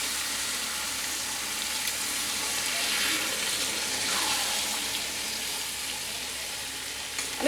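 Water poured into a pan of simmering dal with jackfruit, a steady hissing, bubbling wash of sound that stays at a constant level throughout, with faint stirring.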